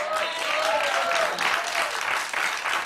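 A studio audience at a Celebrity Big Brother live show applauds, dense sustained clapping from a crowd that holds steady and close.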